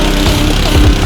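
A lawn mower engine sputters into a loud, rough rumble right after its pull cord is yanked, close up and brief, with no voices.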